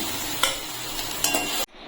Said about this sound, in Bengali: সবিনটা কিছু ভেজে নেব